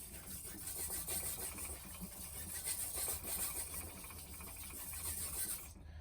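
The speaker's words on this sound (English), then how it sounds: "So you could start with a rough stone or a medium stone, or doesn't matter, but you're sharpening your knife." A knife blade is rubbed across a sharpening stone in a steady, continuous scraping rasp, quiet and close, with no talking.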